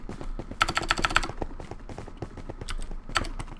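Rapid clicking on a computer keyboard while typing a chat message in a Minecraft paintball match, close and crisp, with a fast burst of louder keystrokes near the start and steady tapping after.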